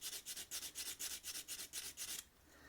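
A small hand file rasps back and forth along the edge of a shrink plastic keychain, giving about a dozen quick, even strokes before going quiet, close and fairly soft.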